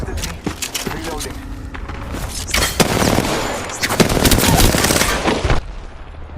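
Rapid gunfire from the Apex Legends video game rattles through in dense bursts and single loud shots, nearly continuous across the stretch with booming impacts mixed in, fairly close and loud.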